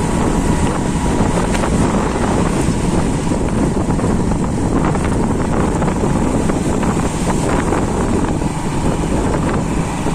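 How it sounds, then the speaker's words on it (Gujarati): Strong gusty wind roars and buffets the microphone continuously, a loud storm-like rush with no voices. "અને પવન આજ બહુ છે, વાવાઝોડા ટાઈપ."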